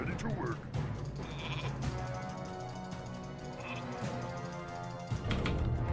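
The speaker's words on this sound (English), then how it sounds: "Can one explode a sheep by clicking on it multiple times in an online game?" Cartoon sheep bleats in the Warcraft 3 game as a unit is clicked repeatedly, short bursts heard over steady game music and sound effects, with a voice talking.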